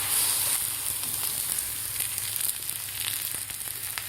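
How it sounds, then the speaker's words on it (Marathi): Thalipeeth made with soaked green moong and spinach sizzles in oil on a hot tava griddle, a steady close frying crackle that continues without a break. "आता लगेचच थापून घेतलेलं थालीपीठ या तव्यावर आपल्याला टाकायचं आहे."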